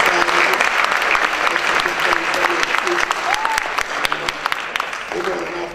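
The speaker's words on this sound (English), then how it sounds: "And give all of these guys a round of applause." Enthusiastic audience applause at a high school college commitment ceremony, sustained dense clapping with prominent individual claps and a brief whoop, loud and close, with voices mixed in.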